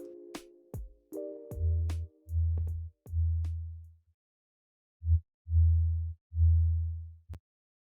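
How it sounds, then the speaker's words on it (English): A pure, deep sine wave synth bass made in Vital pulses in short sustained notes with sharp clicks between them, a repeating pattern broken by a brief pause. "We can do it with one sine wave"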